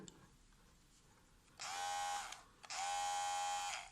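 A professional cordless electric hair clipper bought from AliExpress buzzes on in two loud, close bursts with a brief gap between, its high-pitched steady motor whine starting after quiet background.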